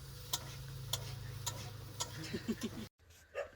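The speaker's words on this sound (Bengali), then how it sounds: "এখানে ভাই দেখো মশলাটা কষাচ্ছে" Masala spices frying in a pan for an egg curry, a soft steady sizzle with a regular ticking of a spoon stirring against the pan, briefly cut off near the end.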